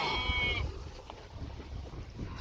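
A freshly shorn sheep on windy pasture after rain gives one short bleat at the start, then gusting wind rumbles on alone.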